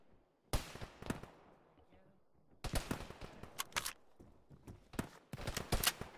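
Video game gunfire from an enemy shooter during a night raid, with several bursts of sharp shots, some single cracks and some rapid volleys, spread irregularly across the moment, fairly loud and close, with faint voices in the background.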